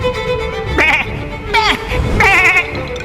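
Sheep bleat repeatedly in The Puppeteer, a PS3 game, several wavering cries in quick succession over busy game sound.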